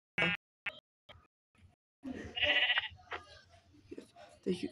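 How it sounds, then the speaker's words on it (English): A few short sheep bleats, close and fairly quiet, sound among scattered noises in the video game New World, with a voice speaking. "Sheep, get over here."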